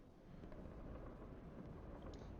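Fireworks go off in the hangar of the War Thunder video game, a faint, distant rumbling of booms that runs on steadily without sharp individual bangs.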